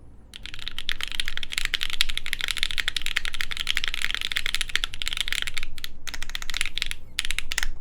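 Fast, steady typing on a custom Studio Kestra Nue mechanical keyboard with GMK Modern Dolch Light keycaps and filmed switches: dense close clacks with brief pauses near the end, no talking.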